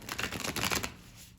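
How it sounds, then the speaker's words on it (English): Animal oracle cards shuffled from a deck, a brief close flurry of papery riffles and flicks that fades out after about a second, with no talking. "I feel the urge to pull an animal card"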